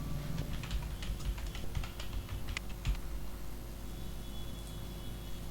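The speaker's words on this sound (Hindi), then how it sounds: "चौथी लाइन में हमने टाइप किया" Typing on a computer keyboard while entering lines of text into a broadcast character generator: a steady stream of close, light key clicks for a few seconds, then near quiet with a low hum underneath.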